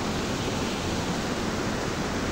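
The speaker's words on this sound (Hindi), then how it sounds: "गोटे बड़ वाटरफॉलटा अच्छी देखा" A big waterfall on a forest trail rushes steadily in a dense, broadband roar that stays close and even throughout, with no voices over it.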